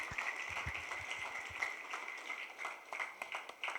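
Applause from the audience at the close of a Yavatmal camp session, a fairly faint but steady patter of many hands that continues for several seconds with a little talk underneath.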